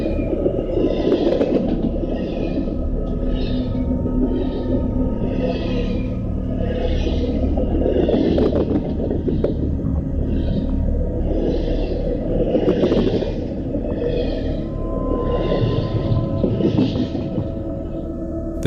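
A train rolls past on railroad tracks with a steady, heavy low rumble and a throbbing beat, loud and close throughout, with repeated rhythmic clatter higher up and no talking.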